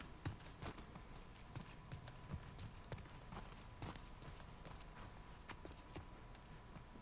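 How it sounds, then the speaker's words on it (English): Goat hooves clopping along in The Last of Us Part II, a steady run of light, faint hoof taps under a soft game background, with no talk. "Oh, that's a goat."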